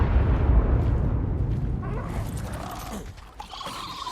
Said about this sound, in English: Lots and lots of explosions.